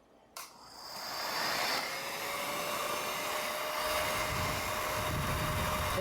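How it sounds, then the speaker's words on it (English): A Revere film projector's motor starts with a click and settles into a steady, close whirring hum with a faint high whine, running on alone without talk. "Then you have to turn the motor back on if it's off."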